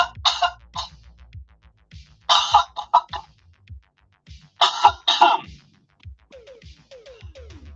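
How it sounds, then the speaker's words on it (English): A person coughs hard in three close bursts to clear the throat, each burst a quick pair or cluster of rough coughs, with quieter breaths and small throat noises in between. "let me take my microphone off and cough for a second"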